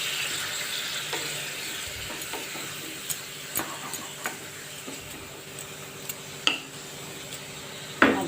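Spice masala with chili powder sautés in a pan, giving a continuous low sizzle under occasional sharp clicks and scrapes of a utensil, close and moderately loud with no talk.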